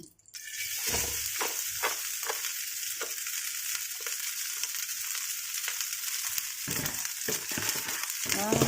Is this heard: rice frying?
yes